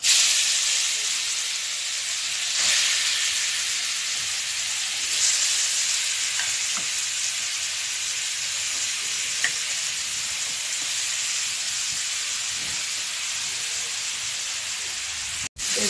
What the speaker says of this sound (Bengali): ভালো করে গাজরটাকে ভাজতে হবে, এতে যাতে লেগে না যায়।